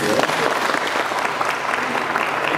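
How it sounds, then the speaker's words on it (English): Dense, steady applause from a seminar audience at an entrepreneurship event on building the local economy, filling the whole short stretch at an even level with no pauses. "let's give a big round of applause"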